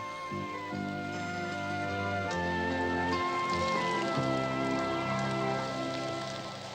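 Rain falling in a cartoon scene, a continuous even hiss that runs throughout beneath sustained musical tones, with no voices.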